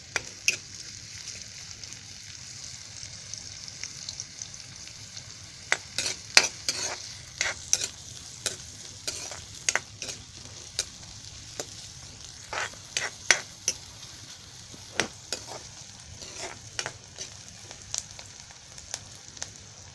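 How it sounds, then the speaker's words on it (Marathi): Onion fries in oil for a potato paratha filling, with a soft continuous sizzle under a run of quick, scraping spatula strokes that cluster irregularly through the middle and taper toward the end. "कांदा असं कसं तेलामध्ये जरा फ्राय करून घेतला ना, नरम करून"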